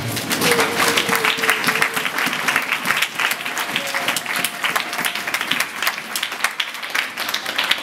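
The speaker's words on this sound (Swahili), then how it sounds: "Hebu piga kidogo makofi." A congregation claps together through a church service, steady broadband applause running the whole stretch with no break, fairly loud and close.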